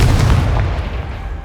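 Confringo fire spell going off in the Hogwarts Legacy video game: a loud, booming explosive blast with a heavy low rumble that decays over about a second and a half, with no talk over it.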